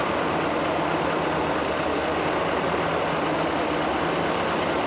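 A Mercedes 560SL engine runs at a high idle, giving a steady, even rumble with a faint hum that holds unchanged throughout, close and alone.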